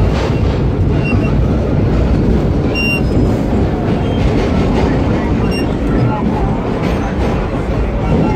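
A vintage holiday nostalgia subway train runs on New York City's 2nd Avenue line, giving a loud, continuous rumble and rattle that stays steady throughout with faint squeaks on top.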